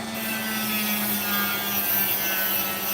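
A chunk of opal is carved and ground off with a cutting tool, giving a close, steady abrasive grinding rasp over a constant motor hum throughout.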